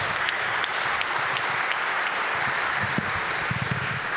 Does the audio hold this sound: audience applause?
yes